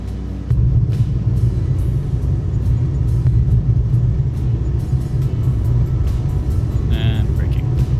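An aircraft lands and brakes in Microsoft Flight Simulator 2024, a loud steady rumble of engine and rolling noise close up, holding continuously with a short tonal chime near the end, while a person talks over it.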